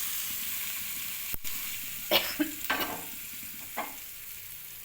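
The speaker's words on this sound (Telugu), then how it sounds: "ఈ పోపును ఈ చింతపండు చట్నీలో వేసుకోవాలి" A hot tempering of curry leaves and dried red chillies hits tamarind chutney with a few short, crackling sizzle bursts after a sharp clack, fading back into a faint steady hiss.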